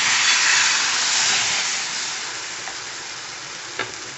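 Wheat dosa batter sizzling on a hot griddle, a loud, steady hiss that eases off gradually over a few seconds, with a faint tap near the end.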